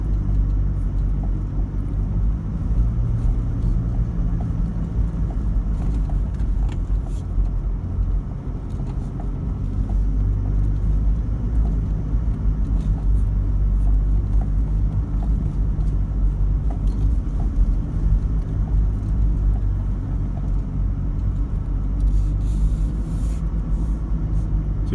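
A 2019 Toyota 4WD diesel climbs a hill on bush tracks during a DPF burn, producing a steady, heavy low rumble that persists without break and without talk.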